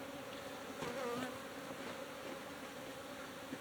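Honeybees buzzing around an open beehive as a new box is added, a soft continuous drone of many wings, fairly faint and steady with no talking.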